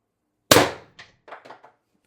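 A single sharp shot from an X-68 HPA airsoft gun running at 800 PSI, loud and close, with a quick decay followed by a few faint clicks and rattles.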